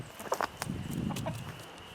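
Young chickens move from the brooder into a larger coop and give a few short clucks and calls close by, over a soft rustling background.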